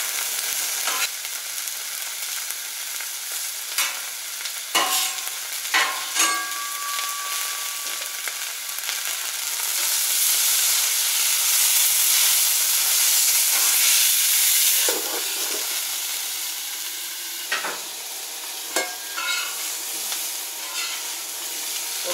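Chicken brats, potatoes, onions and peppers sizzle steadily on a Camp Chef FTG600 flat top grill, with a loud continuous hiss and intermittent scraping and clinking as the food is mixed.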